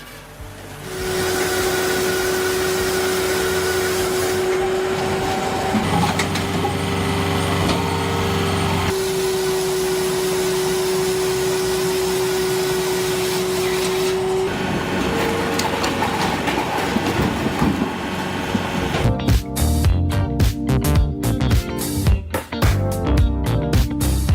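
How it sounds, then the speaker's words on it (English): Spalt Fix K Vario automatic firewood saw and splitter running, a loud continuous mechanical whine with a steady tonal hum that shifts pitch partway through, ending in a burst of rapid clattering cracks. "Leibniz's Spalt Fix K Vario automatic saw offers absolute precision. This machine enables quick cutting and splitting of firewood"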